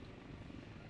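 Helicopter in a video game, a steady low rotor drone and engine hum holding even and continuous throughout, with no voices.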